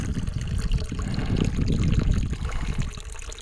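Spring water trickles and splashes steadily from a tree-trunk trough at Tree Trough Spring on an Oregon mountain trail, a close, continuous burbling flow with no talking.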